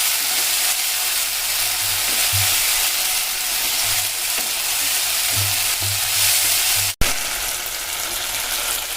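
Mocha kopta masala is stirred in a frying pan over a lowered gas flame, giving a steady soft sizzle with scraping strokes near the pan and one sharp click near the end.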